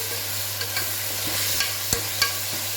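Finely chopped tomatoes go into onions frying in a pan, giving a steady close sizzle with a few soft taps and scrapes from stirring, no voices.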